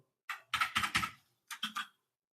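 Keys clatter on a computer keyboard in two short bursts, a quick run of about six strokes then three more after a brief pause, close and clear in a quiet room.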